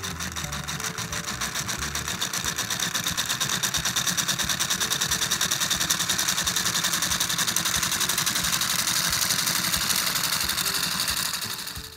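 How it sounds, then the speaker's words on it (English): A Capsela toy electric motor drives a crown gear module that spins three wheels at the same speed, giving a steady whirring mechanical buzz with a fast regular ticking pulse, close and constant, with no voices. "So if we turn it on, these three are all spinning up at the same speed."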